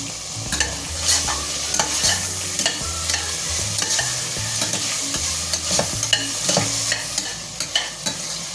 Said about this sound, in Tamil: வெங்காயம் இந்த அளவு வதங்கினதுக்கு அப்புறமா அதில் தக்காளி ஆட் பண்ணிக்கணும்.